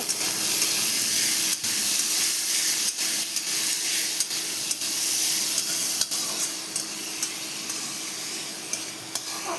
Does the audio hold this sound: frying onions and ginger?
yes